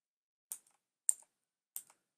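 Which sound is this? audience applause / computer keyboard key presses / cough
computer keyboard key presses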